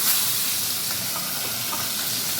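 Catfish frying in hot oil, a steady loud hiss and sizzle with faint pops of splattering throughout, no voices.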